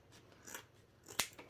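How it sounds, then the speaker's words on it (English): Scissors snip through the selvage of starched woven cotton, a couple of faint slicing strokes ending in one crisp, close cut. "Now I'm going to cut off my salvage because I don't need that."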